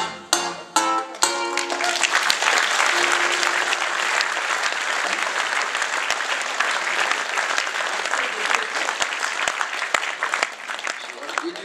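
An audience at a comedy bard performance breaks into loud, sustained applause after a few musical notes, the dense clapping continuing steadily to the end.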